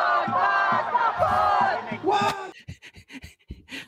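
Protesters at a political rally shout and chant together in a loud, close burst of voices, then the crowd noise breaks off into scattered short shouts and pauses.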